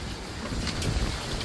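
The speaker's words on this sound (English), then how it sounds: "It's too windy." Strong hurricane wind roars against the microphone in a loud, steady buffeting rush with low rumble, heard alone for a brief moment.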